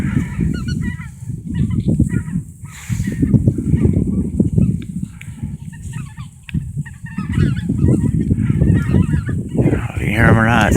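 Greater white-fronted geese, or speckled bellies, honking as they fly in from behind over wetland in Illinois on an icy 32-degree morning, repeated calls under someone talking close by.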